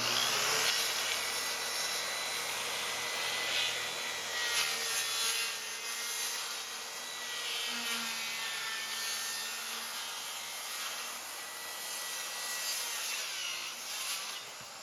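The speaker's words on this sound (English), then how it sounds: "This is an old piece of plywood that we're going to cut." An old piece of plywood being cut for a swarm-trap platform, a faint, continuous sawing drone with a steady rasping texture that runs the whole time with no talk.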